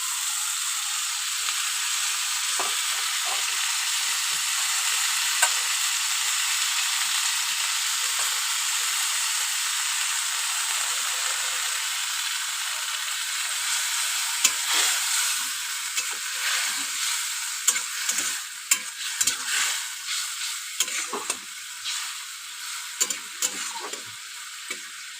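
Bitter gourd leaves frying in a pan with turmeric and salt, giving a steady bright sizzle broken by scraping stirs that grow more frequent toward the end, close and alone.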